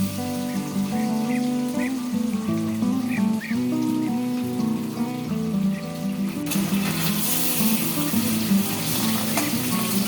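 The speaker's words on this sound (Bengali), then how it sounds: "এবার কড়াইতে মাছগুলো দিয়ে 2 পিঠ হালকা করে ভেজে নেব।" Pabda fish fry in hot mustard oil in a wok with a loud, continuous crackling sizzle that swells noticeably partway through, close up and with no voices.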